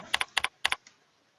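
Three quick pairs of key taps on a computer keyboard while entering a Google Maps search, crisp and close, followed by one faint final tap.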